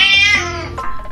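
A cat gives a single loud, close meow that rises and then trails downward, alone and without talk.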